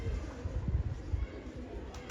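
Low, soft pigeon cooing from a domestic coop, faint and rumbling beneath steady background noise, with a few throaty pulses coming in irregular bursts.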